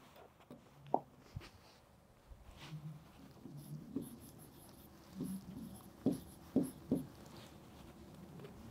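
Chalk or marker writing on a classroom board, faint scratchy strokes and a few light taps spread unevenly through quiet room ambience, with no voices.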